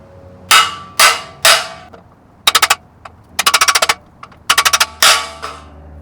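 A socket is hammered into the steering stem of a Honda 400ex ATV: three single loud metallic strikes, then two quick bursts of rapid repeated taps, then more single blows, all close and with no talk.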